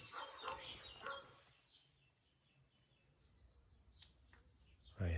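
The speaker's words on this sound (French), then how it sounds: "Il y a des chiens dehors qui aboient" Dogs bark outdoors, heard faintly and at a distance from inside a large abandoned manor, with short muffled barks and a few bird chirps after a brief stretch of talk.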